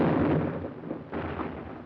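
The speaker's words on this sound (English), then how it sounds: "Our own artillery was brought to fall within 100 yards of our front-line elements." World War II artillery barrage at San Pietro, rolling booming explosions that blend into a continuous rumble, loud and dense throughout, with a fresh blast about halfway through.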